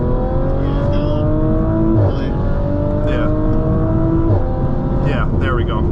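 A 2018 Audi RS5 Coupe with a Stage 2 tune pulls hard from a standing launch, its engine note climbing steadily through the gears with brief dips at each shift, heard from inside the cabin.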